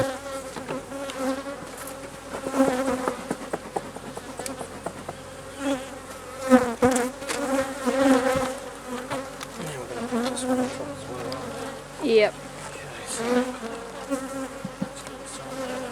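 Honeybees buzzing around a backyard beehive as a super is added: a steady, close, layered drone of many bees, with individual insects swelling louder as they pass near, no talking.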